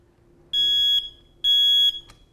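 A household smoke detector sounds its test alarm: two loud, shrill, evenly spaced electronic beeps of about half a second each, close up in a quiet room, followed by a faint click.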